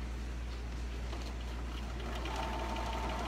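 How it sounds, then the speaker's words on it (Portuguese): Sewing machine stitching a small fabric bag closed with backstitching, a steady close whirring motor running continuously without pause. "Agora eu vou costurar desta costura até a outra, fazendo um U, vou fechar o saquinho, sempre com retrocesso"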